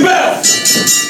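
Wrestling match bell clangs at a live showcase event, a few bright metallic rings in quick succession, loud and close, with crowd noise around.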